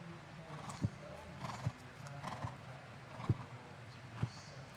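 Hooves of a show jumping horse clip-clop at an indoor arena, a few spaced thuds standing out from a steady low crowd and arena murmur, fairly distant with no clear voices.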